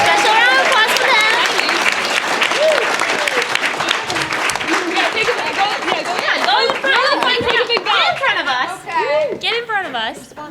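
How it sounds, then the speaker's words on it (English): A convention crowd at a BronyCon 2017 voice-acting panel applauds steadily for several seconds, mixed with loud cheers, whoops and chatter close by, thinning slightly toward the end. "Give them a round of applause."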